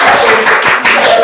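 Applause from a crowd at a local event in Kara, Togo: a dense, loud wash of clapping filling the whole moment without a break.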